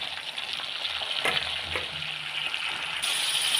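Lai saak mustard greens fry in hot oil in a pan, with a continuous moderate sizzle, a couple of brief clatters partway through, and a hiss that grows louder toward the end, with no voices.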